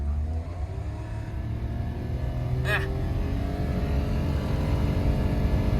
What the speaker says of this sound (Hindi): आवाज ऐसे आ रही जैसे इंजन पाड़ जाना है।